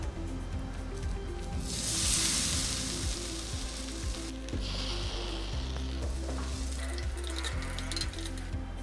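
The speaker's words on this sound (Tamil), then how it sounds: "எண்ணெயில் பொரிஞ்சிடுச்சுன்னா நல்லாயிருக்கும் அது," Dried red chilies sizzle in hot oil for a tomato thokku, a steady broadband hiss that swells loudly around the middle and continues with faint clinks and stirring, no voices.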